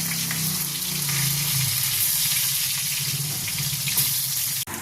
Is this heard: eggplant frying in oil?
yes